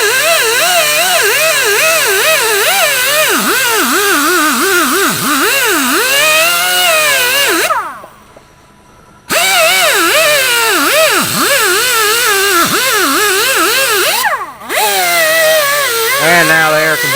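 A compressor-fed air tool whines in long, loud bursts near the engine of a Farmall H tractor, its pitch wavering as air pressure sags, with two brief pauses between runs.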